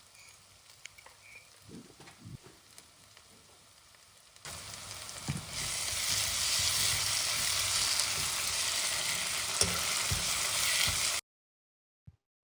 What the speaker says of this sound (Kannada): 2 ಟೀ ಸ್ಪೂನ್ ಶುಂಠಿ ಬೆಳ್ಳುಳ್ಳಿ ಪೇಸ್ಟನ್ನು ಆ್ಯಡ್ ಮಾಡ್ಕೊಳ್ಳಿ. ಅದರ ಹಸಿ ವಾಸನೆ ಹೋಗುವ ತನಕ ಚೆನ್ನಾಗಿ ಫ್ರೈ ಮಾಡ್ಕೊಳ್ಳಿ